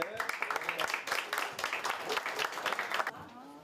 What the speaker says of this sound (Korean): 학부모들은 졸업생들에게 박수를 보냅니다